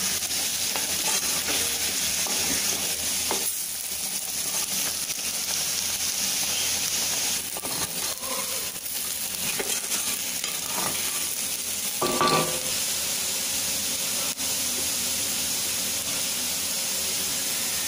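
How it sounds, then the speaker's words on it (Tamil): Potato pieces frying in a pan over a low flame, a steady close sizzle and hiss with occasional scraping knocks of a spatula as they are stirred. "அடுப்பை சிம்மில் வச்சு மூடி போடாமல் இனிமேல் கிளறி விட்டு நல்லா ஃப்ரை பண்ணிடுவோம்"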